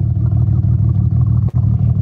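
A V6 car engine idles loudly and close by with an uneven, lumpy rhythm from a misfire, briefly stumbling near the end.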